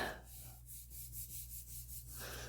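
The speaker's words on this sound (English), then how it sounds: "then I flip it over and kind of give it a good rub" A hand rubs a piece of scrapbook paper flat, giving a soft, quiet scuffing that runs in a rapid series of short strokes for about two seconds.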